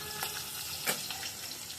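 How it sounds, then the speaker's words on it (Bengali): Fish frying in oil in a home kitchen pan, a soft, moderately quiet crackle with a few sharper pops and spatters scattered through the short stretch, no talking. "মাছটা কি বেশি ভাজা হয়ে যাচ্ছে না?"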